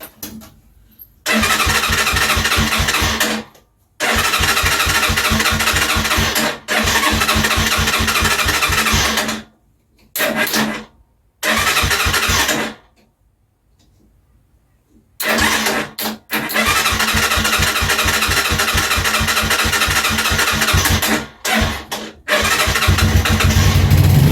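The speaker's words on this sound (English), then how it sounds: "Right, so we have an engine that runs." A Pioneer Nevada 125cc Chinese motorcycle engine is cranked and fires repeatedly, running in loud bursts with a rapid rattling beat, cutting out several times before catching and running steadily, close up.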